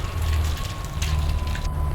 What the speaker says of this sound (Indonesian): Lalu goreng. Goreng pakai minyak panas.